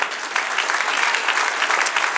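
A church congregation claps together in a short, steady burst of applause during a Spanish-language service, dense and close throughout.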